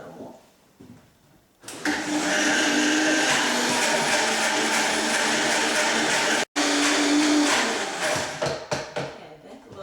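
A blender runs loud and steady for several seconds, whirring cashews down into a runny cream, cutting out for a moment and then resuming before trailing off.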